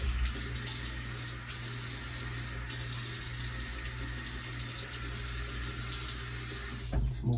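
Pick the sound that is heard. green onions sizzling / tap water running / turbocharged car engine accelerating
tap water running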